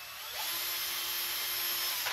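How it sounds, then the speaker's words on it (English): A power drill whirs steadily at close range, boring a hole in the top of a turkey baster, its high motor whine holding for about two seconds before winding down. "Drill your hole in the top of the turkey baster,"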